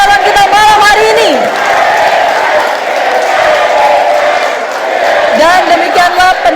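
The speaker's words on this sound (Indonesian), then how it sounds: "Berikan tepuk tangan paling meriah untuk ketiga pasangan calon kita malam hari ini." A crowd at the close of the 2024 Cimahi mayoral and vice-mayoral debate cheers and whoops over a loud, steady wash of clapping, with a host's amplified voice talking over it.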